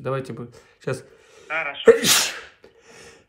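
A person sneezes loudly and abruptly during a phone conversation, a sharp noisy burst following brief speech, with a faint voice afterward.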